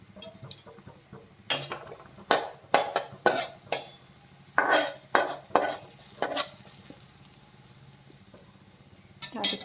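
Sliced onions and turmeric frying in oil for a dhekia leaf dish, a steady low sizzle under about a dozen sharp spatula scrapes and stirs, clustered in bursts with a quiet pause near the end.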